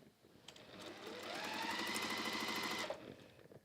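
A sewing machine runs a short, steady burst of rapid stitching through pieces of fabric, its fast mechanical chatter rising then stopping after about three seconds, close and fairly quiet.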